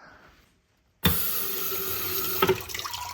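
An instant hot water tap at a kitchen sink bursts on after a brief silence and runs steadily into a cup, a loud close rushing stream with a short gurgle near the end.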